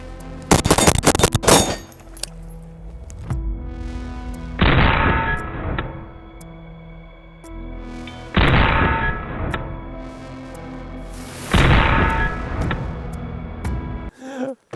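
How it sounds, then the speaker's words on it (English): Rifle shots fired at a modern Russian 6B47 army helmet outdoors, a loud rapid burst at the start followed by three further heavy blasts with ringing decay, spaced a few seconds apart. "first test that we have, SPAL from a rifle."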